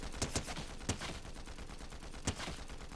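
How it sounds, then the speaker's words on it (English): Gunfire from a hard-recoiling gun in Fortnite: a few sharp shots, some in quick pairs, spaced irregularly over a steady noisy background. The shots are moderately loud and there is no speech. "my god, this gun has recoil"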